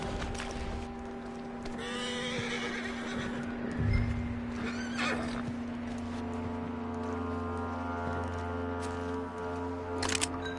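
A horse in the video game Red Dead Redemption 2 whinnies and snorts up close, with hoof thuds and a steady electronic hum in the background.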